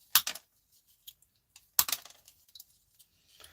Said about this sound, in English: Cut off these bits of wire. Cut off this wire here.